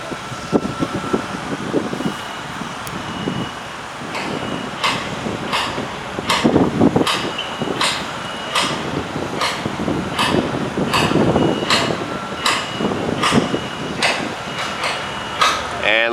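Workers hammering a spike into steel roller coaster track on a construction site, a steady series of sharp metallic strikes at a moderate distance under ongoing wind and site noise, with people talking.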